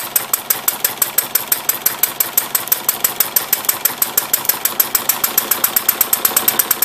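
A Webster model engine fitted with a Chuck Fellows carburetor runs with a rapid, even train of sharp popping firing pulses, loud and close, with no voices.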